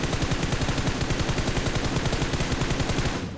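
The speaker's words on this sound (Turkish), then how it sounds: "gördüğünüz gibi bütün mermiler aynı yere gidecek" Sustained automatic gunfire spray in the mobile game PUBG Mobile, a rapid, evenly spaced burst of loud shots lasting about three seconds before cutting off.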